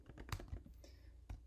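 Keystrokes on a computer keyboard as a command is typed, a quick run of close, crisp clicks with short pauses between them and no one talking.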